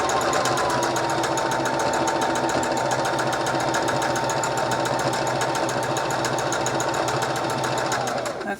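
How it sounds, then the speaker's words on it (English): A sewing machine running steadily as it zigzag-stitches around an upcycled t-shirt hat, a loud continuous rapid mechanical chatter close by, with no pauses. "zigzag all the way around the hat. I'm going to back stitch for a couple of stitches"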